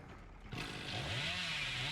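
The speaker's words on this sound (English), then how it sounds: "Vrabby revving up that chainsaw." A chainsaw revs up in a Dead by Daylight-style video game match, starting suddenly after a half-second of quiet and rising in pitch as the engine whines steadily, with a faint voice behind it.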